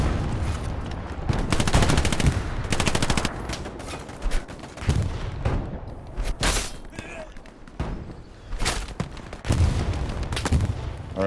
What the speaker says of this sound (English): I'm bombarding that intersection